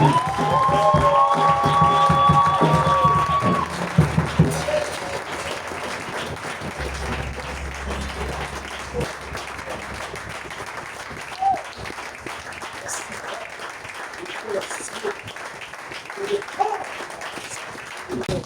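A church congregation applauding and acclaiming Jesus during worship: tonal voices and singing at first, then sustained crowd clapping and cheering with scattered shouts, steady and fairly loud.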